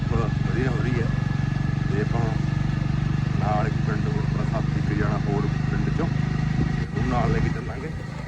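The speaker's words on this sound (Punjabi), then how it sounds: "ਆਪਾਂ ਜਾ ਰਹੇ ਪਏ ਮੋਟਰਸਾਈਕਲ ਤੇ" A motorcycle is ridden along a road in cold weather on the way to a wedding in Punjab, its steady close engine drone running under people talking before it dips near the end.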